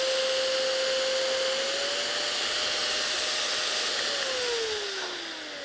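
On its max setting, a Nosiboo Pro electric nasal aspirator gives a steady, vacuum-like electric motor whine with a breathy hiss. The pitch holds, steps up slightly, then drops as the motor winds down near the end.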